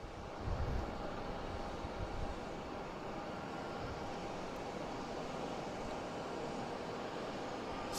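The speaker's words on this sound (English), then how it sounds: "we got JetBlue taking off, heading to the A321, heading to Barcelona" A JetBlue Airbus A321 jet takes off from Boston Logan International Airport, a steady distant engine roar that holds throughout without voices.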